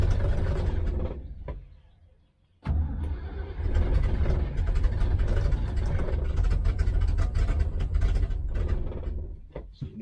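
A 1971 engine idling while its carburettors are balanced, a steady low mechanical drone that dies out briefly, then catches again and runs continuously at a constant rough idle.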